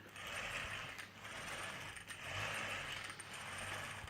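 A steady mechanical whir of an RC car's metal pinion and spur gears turning, a quiet, smooth hum with a faint higher whine and no voices.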